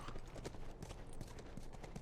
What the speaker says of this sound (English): I kind of like that the horse is just following me in here.